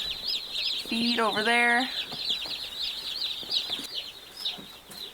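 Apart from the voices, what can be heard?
meat bird chickens clucking and pecking the ground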